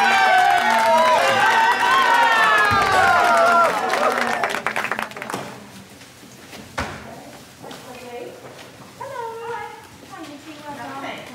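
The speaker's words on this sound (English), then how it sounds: "A big shout out and a clap to you all." At a school news assembly, voices cheer loudly with high, drawn-out shouts while clapping joins in, then the noise fades into scattered applause and people talking.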